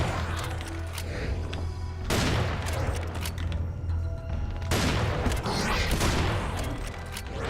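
Loud gunfire from Serious Sam 4, heavy booming double-barrel shotgun blasts in quick succession over a constant dense rumble, with brief pauses between bursts.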